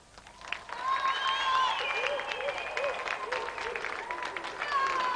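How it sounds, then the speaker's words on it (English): A studio audience on a television video game show applauds, a sustained round of clapping mixed with electronic game tones and a voice. "Round of applause for Aaron."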